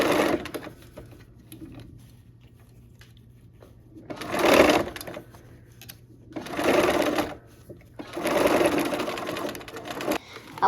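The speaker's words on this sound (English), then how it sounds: "Got our needle down again and got our stiletto handy. And we're just gonna keep on sewing using our 1/4 inch here." A sewing machine stitches fabric with a quarter-inch presser foot, sounding as three or four close, steady whirring runs of a few seconds each, separated by quieter pauses with a faint background hum.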